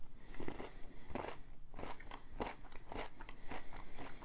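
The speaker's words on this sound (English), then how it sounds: "we'll go ahead and take a bite here of the milk crunch flavor here" Bites and chews on a MrBeast Feastables milk crunch chocolate bar with puffed rice, a run of close, sharp crunches every half second or so, loud and dry with no talking.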